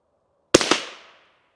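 A .22LR rifle fired at mini soda cans outdoors, two sharp close cracks in quick succession with a brief ringing decay, no talk.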